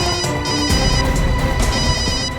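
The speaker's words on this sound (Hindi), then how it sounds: "घंटी तो बज रही है।" A mobile phone rings with a steady, repeating electronic ringtone, loud and close, with no talking over it.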